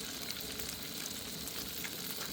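Burgers sizzling and frying at a campsite, a steady close hiss of crackling fat running without a break and with no talking.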